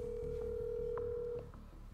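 A telephone line tone sounds as a phone call is placed: a steady, clear pitched tone holds for over a second and then cuts off, leaving a quieter background.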